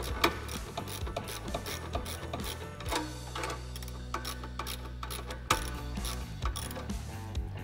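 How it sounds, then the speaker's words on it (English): A 7/16 socket wrench ratchets repeatedly while tightening the motor brackets of a solar attic fan, quick dry clicking bursts in a close, quiet space, alone without talk. "You're going to take your 7/16 socket wrench and box wrench, and you're going to squeeze the brackets in place that hold the motor."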